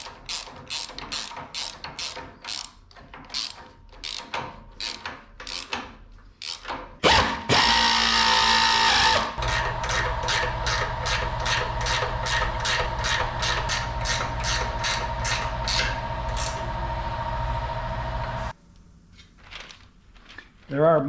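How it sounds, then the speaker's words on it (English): Bolts on the rear shackle mounting plate of a Bricklin SV1 suspension being tightened, first with a rapid clicking ratchet, then a long steady power-tool whir, then more ratchet clicks, close and moderately loud. "Now we're going to tighten the rear shackle mounting plate bolts."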